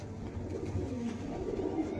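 A Kasuri pigeon coos softly nearby, a low, soft burbling that repeats against faint background noise.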